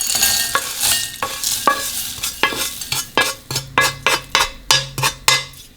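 Roasted whole spices for garam masala scraped and scooped out of a frying pan into a dish, with a quick series of sharp metal scrapes and clinks, close and fairly loud, and a faint sizzle underneath.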